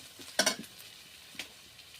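Onions frying in a pot over a clay stove for a fish curry, with a few sharp scraping stirs and a soft sizzle, fairly close, with no one speaking.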